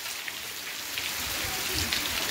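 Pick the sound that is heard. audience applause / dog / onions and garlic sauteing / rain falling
rain falling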